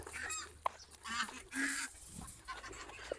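Several short honking gobbles and squawks from a turkey come in bursts, close by over a quiet background.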